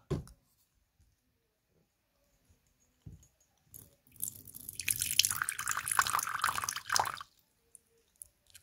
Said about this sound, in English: Let's have a tiny look on Chloe before we start pouring in the water into the water dish.